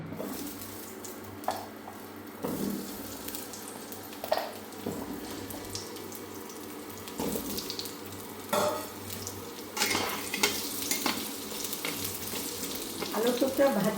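Potato pieces drop into hot mustard oil in a frying pan on a stove and sizzle steadily, with occasional clinks of a utensil against the pan over about fourteen seconds.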